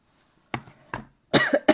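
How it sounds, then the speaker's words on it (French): Three short, close coughs from one person, two single hacks followed by a harsher, longer double cough, with silence in between. "J'essaye de soigner cette toux."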